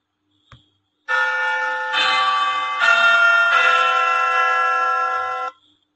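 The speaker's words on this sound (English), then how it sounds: "So it will be like this chiming." A clock strikes the quarter hour with four sustained chime tones in a row, each ringing straight into the next at even length, loud and clean against near silence before and after.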